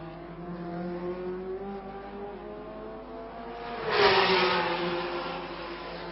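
A 1966 Formula 1 car at the French Grand Prix sweeps past the pits, its engine howl rising sharply into a loud pass, then fading, over the steady drone of other engines.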